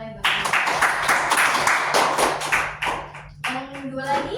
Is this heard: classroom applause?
yes